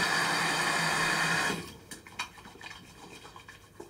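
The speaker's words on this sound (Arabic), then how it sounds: "راح نغسل وجهي" Water runs steadily from a tap, then cuts off into a series of soft, irregular splashes as a face is washed by hand, close and fairly quiet.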